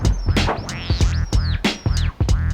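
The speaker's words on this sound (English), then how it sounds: "The bush should be struck against the ground 3 times in conjunction with the first 3 calls" A bush is struck against the ground three times, making low, close thumps in time with whistled squirrel calls from a call whistle, the rustling strikes mixed with sharp chirping sweeps.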